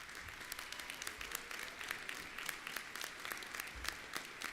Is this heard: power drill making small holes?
no